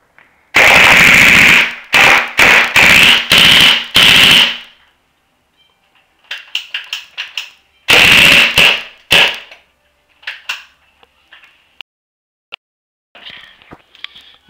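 A Tippmann paintball marker fires at a teddy bear, with a loud, close burst of rapid shots in the first few seconds, scattered quieter pops in the middle, then a second rapid volley around eight seconds and a few faint taps after it.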